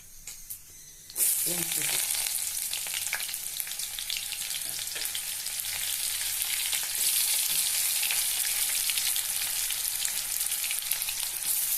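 Onion and bay leaf hit hot oil for a fish fry, setting off a loud, steady sizzle and crackle that fills the clip after a short quiet start, with faint stirring under it.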